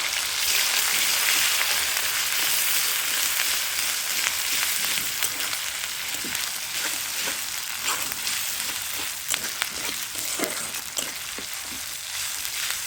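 Onion, garlic and ginger paste fries steadily in a pan, a loud continuous sizzle with occasional stirring scrapes and pops throughout, with no voices.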